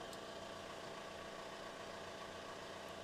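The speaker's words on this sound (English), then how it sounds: "I'm going to start the engine up." A VW Crafter van's engine idles steadily, a continuous low, even hum with faint mechanical vibration that holds close and constant throughout, with no voices.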